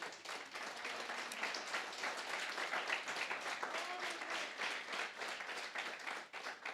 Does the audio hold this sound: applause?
yes